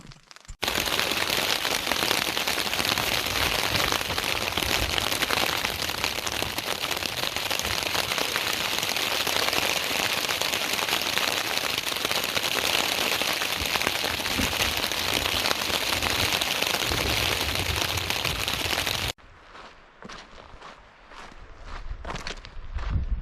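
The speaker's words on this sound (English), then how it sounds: "so I just wait out the rain, I guess." Steady, dense patter of rain drumming on a taut tent fabric on the Rae Lakes Loop, close and loud, continuing without a break before it cuts to quieter sounds.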